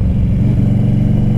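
A 2006 Harley-Davidson Electra Glide Classic idles close by with a loud, steady low rumble, its engine throb running unbroken and alone.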